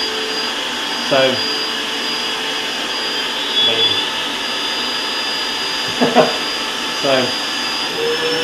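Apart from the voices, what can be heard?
ETENWOLF Vortex S6 portable air compressor running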